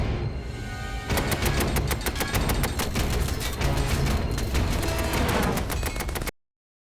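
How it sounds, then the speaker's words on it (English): Sustained WW1 machine gun fire at the Battle of the Somme, bullets hammering against an early tank in rapid dense bursts, loud and continuous for about five seconds before cutting off abruptly. "By now, machine gun bullets are smashing against the tank."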